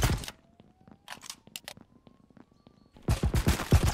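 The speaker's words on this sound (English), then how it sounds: "I don't know where I'm getting shot from." Video game gunfire rattles in short bursts of sharp, close shots, with quieter scattered pops between and a dense volley near the end.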